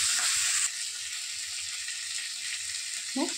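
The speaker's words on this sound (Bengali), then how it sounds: "চিংড়ি মাছগুলো আমি ছাড়িয়ে রেখেছি, এটাকে একটু হালকা ভেজে নেব" Peeled prawns frying lightly in hot oil in a pan: a bright, steady sizzle close by, briefly louder at the start, with a soft utensil scrape near the end and no speech.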